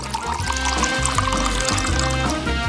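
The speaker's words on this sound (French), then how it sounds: "Beaucoup de chocolat vert fondu. Chris le verse dans un verre." Melted green chocolate pours into a glass in a thick, continuous stream, partly masked by steady background music throughout.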